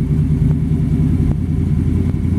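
A 1932 Ford roadster hot rod with a ZZ-430 crate V8 idles loud and close, with a steady rumble and a few throttle blips rising over the lumpy idle.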